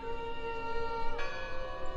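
A bell tolls in the Draugen video game, sounding once near the middle with a sustained metallic ring and a steady harmonic drone throughout, moderately loud with no speech.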